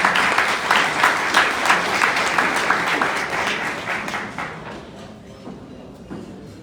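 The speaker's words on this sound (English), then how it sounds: "Can we give a round of applause to Queen Esther, please?" Applause for Queen Esther at a Kingdom of Kush gala, a dense wash of clapping from a crowd that holds steady for several seconds, then thins and fades toward the end.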